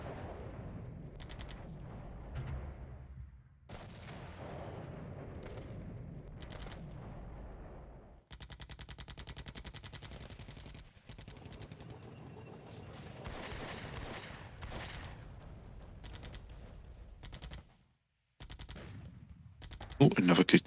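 Sustained gunfire and distant artillery bursts in a Cold War strategy game, a dense run of shots and booms at steady loudness with brief gaps, ending in a louder close crack.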